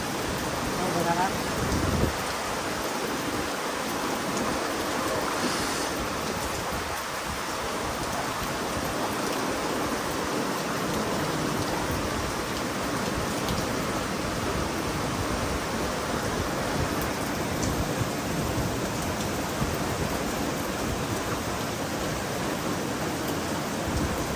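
A steady, dense hiss of heavy, storm-like rain in Asingan, Pangasinan, continues without letup, a constant broadband roar filling the whole stretch.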